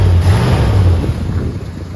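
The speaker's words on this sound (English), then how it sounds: "Rev it up a little bit." A 1977 Ford F150 4x4 pickup's engine revs loudly up close, a rough low rumble that rises and then eases back over two seconds.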